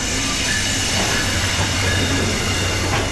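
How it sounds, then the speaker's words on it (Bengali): A train rushes past close by near Ishwardi bypass railway station at night, a loud continuous roar and rattle of wagons with faint wheel squeal and no voices. "এদিকে আবার একটা ট্রেন চলে যাচ্ছে"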